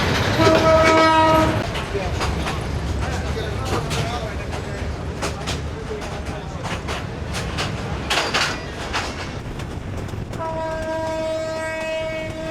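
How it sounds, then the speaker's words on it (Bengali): Local intercity passenger train from Bogura to Panchagarh, loud steady rumble and clattering wheels throughout, with sustained horn blasts at the start and again near the end; a voice speaks over the din. "এটা একটা ইন্টারসিটি ট্রেন, তবে লোকাল ইন্টারসিটি"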